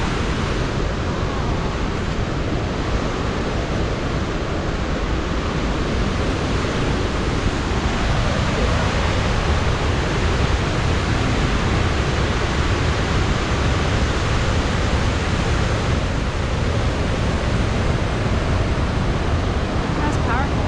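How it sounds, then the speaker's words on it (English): Powerful waterfall in Yellowstone, seen from a roadside pullout: a loud, steady broadband roar of crashing water with no breaks, constant from start to finish and nearby. "Hell of a waterfall."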